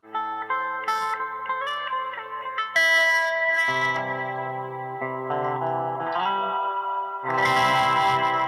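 Clean electric guitar tone through a modulation pedal, shimmering chorus-like notes and chords played alone, moderately loud and steady with a brighter strummed burst at the end.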